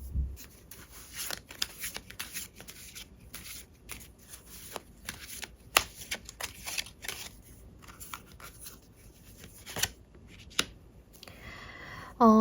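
Tarot cards shuffled by hand, a dense run of soft riffling and flicking card sounds, close and quiet, continuing for several seconds with brief sharper snaps.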